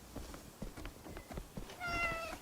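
A calico cat in the video game Crimson Desert gives a faint meow near the end, above a busy bed of soft in-game rustles and footsteps.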